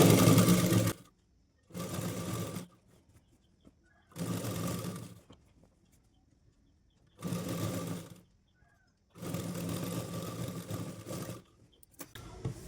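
A sewing machine stitches a six-piece petticoat, running in five bursts of about one to two seconds each, separated by short quiet pauses, close and steady with no speech.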